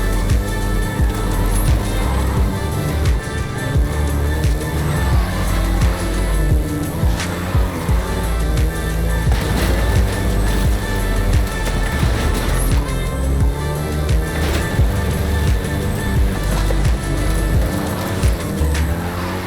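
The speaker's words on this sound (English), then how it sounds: "First generation was released in Mexico as the Volkswagen Caribe and had quite a few variations, including the Golf GTI you're driving right now." Volkswagen Golf GTI driven in Forza Horizon 5 in Mexico, a steady loud engine drone that rises and falls with tyre and road noise, continuous throughout with no voices.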